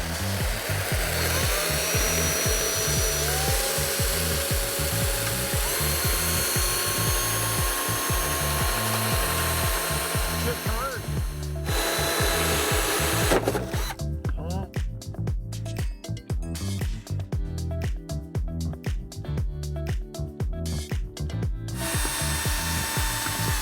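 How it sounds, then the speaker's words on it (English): Power drill boring through carbon fiber on a wrecked GTR under repair, with a hose wetting the work; a loud, continuous grinding whine that drops briefly midway and then resumes, harsher and more buzzing, to the end. "we're drilling the carbon fiber. It's unbelievably tough."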